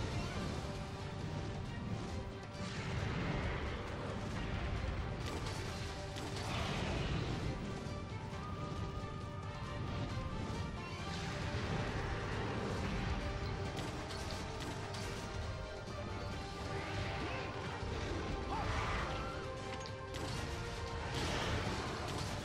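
Heavy bowgun shots fired at a Rathian in Monster Hunter 3, the repeated blasts buried in a dense, continuous wash of battle noise and game music with no clear separation between shots.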